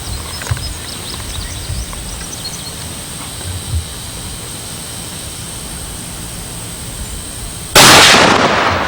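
A shoulder-fired gun goes off once near the end in a single loud, close blast, after a long stretch of quiet outdoor background.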